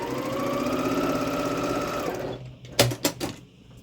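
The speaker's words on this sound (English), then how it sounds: "let's go ahead and sew these together first" A sewing machine stitches quilt fabric pieces together in a fast, even whir that runs for about two seconds and then stops, followed by a few sharp clicks and handling knocks.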